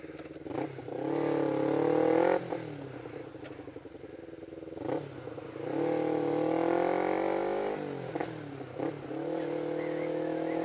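A motorcycle ridden with aftermarket mods revs and rises in pitch through repeated acceleration runs, its engine note loud and close with brief drops between pulls and no talking.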